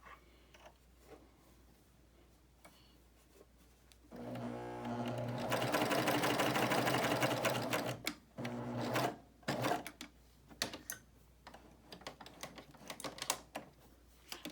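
A BabyLock Euphoria coverstitch machine runs a steady, loud burst of stitching for about four seconds, then gives a few short stop-start runs and clicks alone.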